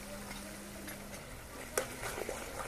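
Ground spices with salt, Kashmiri chilli powder and turmeric stir-fried in a pan for vegetarian aloo dum, a faint, soft sizzle broken by a few scraping stirs and a light clink of a utensil.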